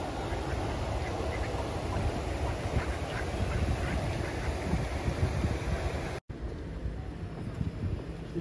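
Ducks on clear water at a riverside in Bakewell, with occasional quacks buried in heavy wind rumble on the microphone that cuts out abruptly near the end before resuming more quietly.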